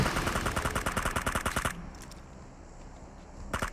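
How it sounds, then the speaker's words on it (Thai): Rapid automatic gunfire from bots shooting a boss in PUBG Mobile zombie mode, a dense loud burst lasting nearly two seconds, then a quieter stretch of ambient game noise before firing resumes. "บอทยิงบอสอยู่นะครับ"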